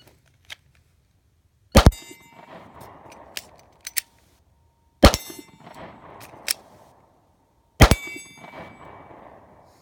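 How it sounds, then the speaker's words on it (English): A Smith & Wesson M&P40 pistol fires three single loud shots at 25 yards, each a sharp crack a few seconds apart, separated by softer handling clicks and rustle from holster draws and reloads. "One shot each with the reloads."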